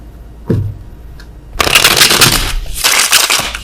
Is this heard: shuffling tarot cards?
yes